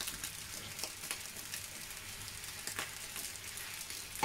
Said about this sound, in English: As you can hear, the rice is actually frying itself quite nicely.